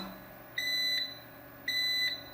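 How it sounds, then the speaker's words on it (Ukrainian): A LogicPower SmartUPS 3000 Pro gives two high, steady low-voltage warning beeps about a second apart over a faint background hum, with no one talking. "Він пищить, бо напруга просідає."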